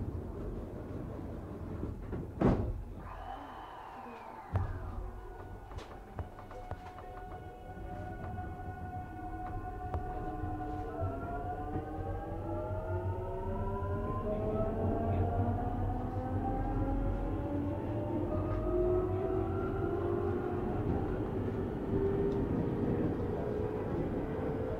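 A JR East Keihin-Tohoku Line 209 series train with a Toshiba VVVF motor controller departs. Brief clunks come first, then the motor whine climbs in rising, layered tones as the train accelerates, steady over a rumbling ride.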